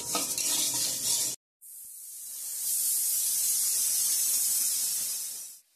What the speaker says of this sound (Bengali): তো ডালের জন্য বেগুনটা এখানে ভেজে রাখছি হালকা করে, আর আলু ভাজাটা হচ্ছে এদিকে।